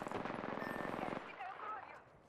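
Apex Legends gunfire rattles in a rapid automatic burst for about a second, then cuts off, leaving faint in-game sounds and a voice trailing after.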